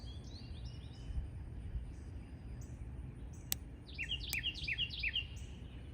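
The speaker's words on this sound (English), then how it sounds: "You hear the birds." Birds chirp in a summer backyard garden, a few quick repeated tweets that cluster toward the end, faint and somewhat distant over a low outdoor rumble.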